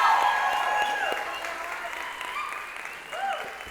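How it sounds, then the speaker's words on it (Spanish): A church congregation claps in a sustained round of applause, dense and fairly close, slowly easing in volume with a few faint voices and whoops rising above it. "Ahora que dense un aplauso ustedes."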